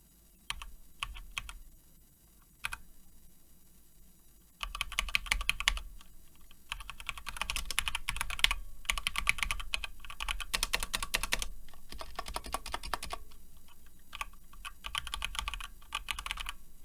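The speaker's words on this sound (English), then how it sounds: "They can hear me tapping on the keys." Typing on a Cooler Master CK550 V2 mechanical keyboard: close, crisp key clacks in irregular bursts, with brief pauses between flurries and denser, louder runs of keystrokes later on.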